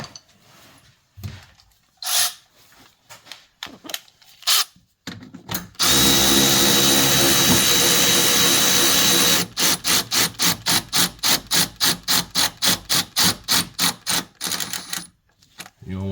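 A power tool drives the belt tensioner bolt back into a Chevy Suburban 5.3L engine: a long continuous whirring run followed by a rapid series of sharp repeated ratcheting bursts, loud and close, with no talk.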